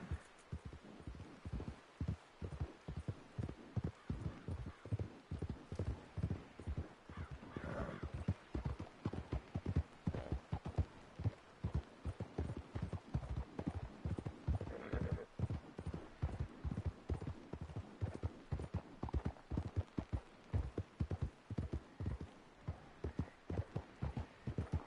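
Horse hooves clip-clop at a steady, rhythmic trot through nearly all of the Red Dead Redemption Online gameplay, fairly close and even in loudness, with a voice talking intermittently over the hoofbeats.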